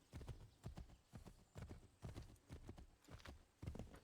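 Hooves of a large white horse clip-clop in Assassin's Creed III Remastered, a steady trotting rhythm of close, evenly spaced thuds throughout.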